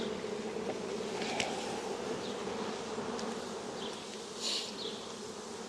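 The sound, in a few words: honeybees buzzing at an open hive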